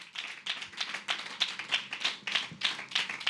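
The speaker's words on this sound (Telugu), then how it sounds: "If you truly understand, just claps to Jesus Christ." A congregation claps in a steady rhythm during a Sunday church sermon, about ten bright claps in a row at an even pace, with no one talking over them.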